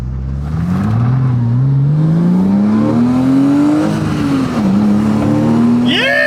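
A Porsche Cayman revs and accelerates hard from close by, its engine note climbing steadily through the gears with a brief dip at a shift, loud and continuous, ending in a short tire squeal.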